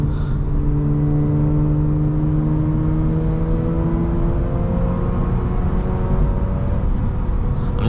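Mazda RX8 engine pulling steadily in third gear along a mountain touge road, a continuous loud drone with smooth rising harmonic tones as revs climb and hold, no talking.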